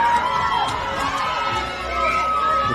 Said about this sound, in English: The crowd are up and about here